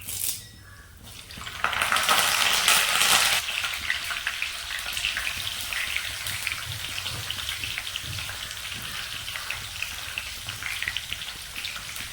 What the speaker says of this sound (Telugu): ఆయిల్ హీట్ అయిన తర్వాత ఆవాలు జీలకర్ర పచ్చి శనగపప్పు మినప్పప్పు వేసి పోపు అయితే పెట్టేసుకుంటున్నాను